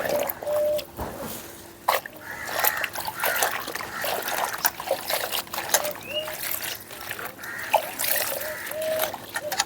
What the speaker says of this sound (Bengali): এখন 2-3 বার জল দিয়ে শাকগুলোকে ধুয়ে নেব।